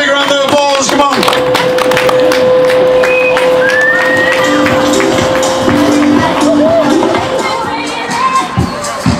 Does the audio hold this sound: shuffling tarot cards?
no